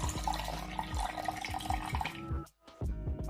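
Cold water from the fridge is poured into oats and milk, a steady splashing stream with gurgling pulses that breaks off briefly and then resumes.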